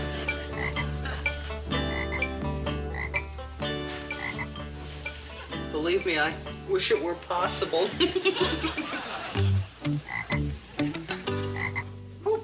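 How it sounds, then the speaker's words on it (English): Frog croaking comes from a cartoon frog in a doctor's office setting, heard as repeated croaks mixed with chuckling, a voice speaking, and music playing throughout. "Who put this ugly frog on my desk?"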